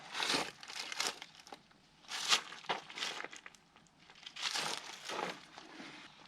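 Dry paper crinkles and rustles in irregular bursts as hands dig through a paper-filled mouse nest inside a 1969 Buick, quiet and close with no voices.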